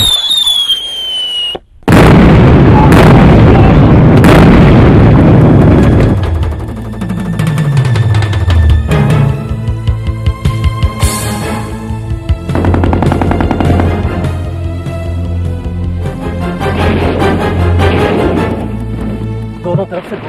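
Gunfire exchanged from both sides in a battle zone where CRPF troops are deployed: a dense, loud run of rapid bursts and cracks that continues throughout, with music and voices layered over it.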